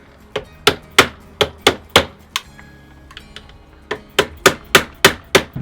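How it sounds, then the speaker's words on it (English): A hammer strikes a door strike plate into a wooden frame in a steady series of sharp, close, ringing blows, about a dozen in all, with a brief pause midway before the rhythm resumes. "I can hold the plate in and hammer it"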